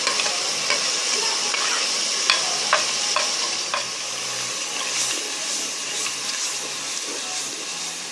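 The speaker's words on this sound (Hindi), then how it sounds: "मसाला को भूनेंगे थोड़ी देर।" Onion, ginger garlic paste, tomato and spices frying together in a pan for Lahori chana, a steady loud sizzle broken by a few sharp scrapes of stirring, with no talking.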